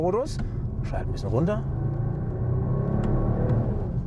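A Mercedes-AMG CLE 53 coupe engine idles and hums at low revs in sport drive mode, a steady rumble that follows brief speech at the start.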